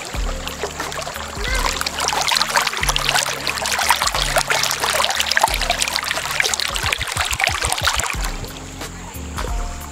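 River water flows close by at Batang Kali, a busy splashing gurgle that holds steady throughout, with low irregular knocks beneath it.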